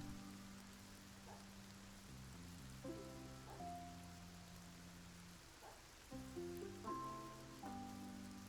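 Steady rain patters in the city-building game Masterplan Tycoon, a soft hiss of falling drops alongside layered musical tones from the game's soundtrack.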